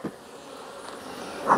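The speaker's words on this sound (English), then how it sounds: "the hive is packed with bees" Dense buzzing of many honey bees in a packed hive, a soft continuous hum with one bee passing close and louder near the end.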